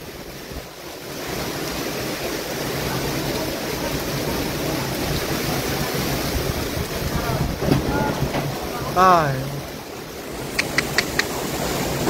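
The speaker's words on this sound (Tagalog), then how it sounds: "Grabe ang hangin" Strong storm wind roaring steadily and loudly against the microphone with surf-like rushing, a voice briefly exclaiming over it midway and a few short clicks near the end.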